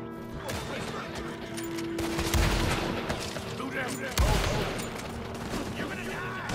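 Gunfire from a small bounty crew fight in the video game Red Dead Redemption 2: scattered shots and bursts with a couple of heavier blasts over a busy mix of game sound, with voices talking throughout.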